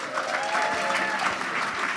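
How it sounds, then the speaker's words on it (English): A live fan-event audience breaks into brief, lively applause, dense and steady clapping with a few voices faintly mixed in. "can you please make yourself known by way of applause?"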